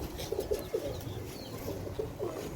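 Sialkoti rooftop pigeons coo in a series of soft, low, rolling calls repeated several times, nearby but gentle, over quiet background noise with no speech.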